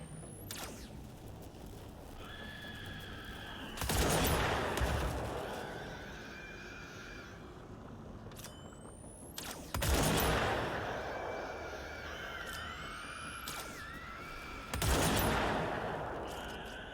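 Gunfire in the video game Control: three loud, rapid volleys of shots a few seconds apart, set against steady in-game ambience with ringing tonal effects between bursts.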